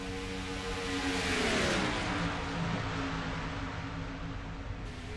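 Engines of Dodge Challenger race cars drone steadily on an oval track in a stock car racing video game, a continuous loud roar with a pitch sweep as a car passes close by.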